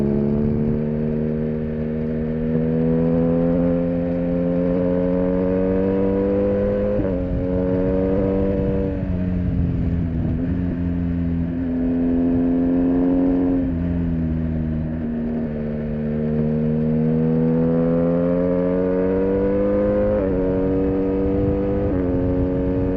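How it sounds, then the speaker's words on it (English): A BMW R1200R/RS or R1250R/RS motorcycle with a slip-on exhaust drones steadily with a deep, throaty exhaust note, rising and falling through several rev changes as it rides along, loud and close. "That's exactly what this bike should sound like."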